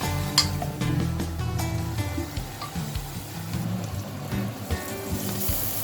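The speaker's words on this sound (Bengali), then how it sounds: "এটাকে এখন হাই ফ্লেমে রান্না করব যতক্ষণ পর্যন্ত আমার তেলটা উপর দিয়ে বেরিয়ে আসে" Masala frying in oil over a high flame for a fish curry, with a steady close sizzle, stirring scrapes and a few clinks against the pan, no talking.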